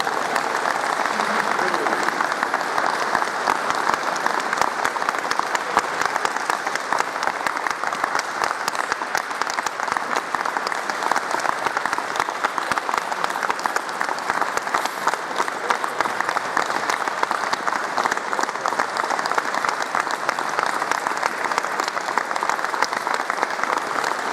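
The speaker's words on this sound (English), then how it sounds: "Well-deserved applause indeed." Lecture audience applauding at the close of a peace lecture: a long, even burst of many hands clapping, dense and steady throughout, filling the room at moderate loudness with no break.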